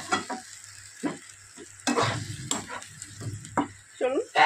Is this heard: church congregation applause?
no